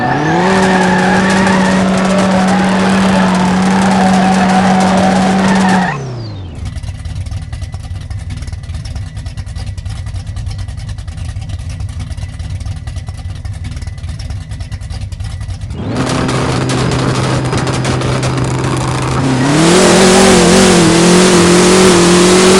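A car in the No Limit Drag Racing 2.0 video game roars through a drag race pass with sustained tire wheelspin and skidding, engine revving loud throughout, easing off midway before surging again.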